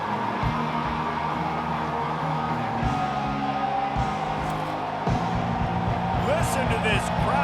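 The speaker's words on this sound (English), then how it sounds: "Listen to this crowd just shaking the girders of this place trying to help their defense." A loud college football stadium crowd at a San Jose State vs. Washington game roars continuously, a dense wall of cheering and noise with a voice speaking over it.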